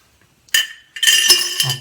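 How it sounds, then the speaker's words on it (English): A die-cast Majorette Citroën DS 21 ambulance toy body dropped into a glass jar, giving a sharp glassy clink followed by a brighter rattling clatter of metal against glass, close and alone. "our body goes into our glass jar,"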